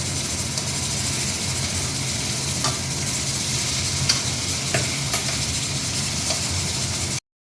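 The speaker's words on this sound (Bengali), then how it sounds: "এবার পিসটা দিয়ে খানিকক্ষণ নাড়াচাড়া করবো।" Fried pieces with spices being stirred in a pan under a dense, steady sizzle, with occasional scrapes and clinks of the spoon. The sound ends abruptly just before the close.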